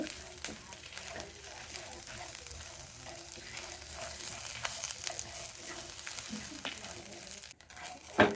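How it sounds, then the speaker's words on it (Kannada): Spices frying in oil in a pan for stuffed brinjal curry, a constant close hiss and crackle with occasional stirring scrapes, while a voice talks over it. "ಸೊ ನೀಟಾಗಿ ನಾವು ಒಂದು ಘಮ ಬರೋವರೆಗೂ ನಾವು ಫ್ರೈ ಮಾಡ್ಕೋಬೇಕಾಗುತ್ತೆ"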